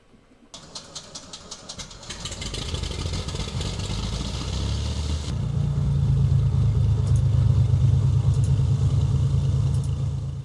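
Piston engine of a Carenado A36 Bonanza starting in the FSX flight simulator game: a click, rapid chugging cranks for a couple of seconds, then catching into a steady rumble that deepens into a loud, even idle.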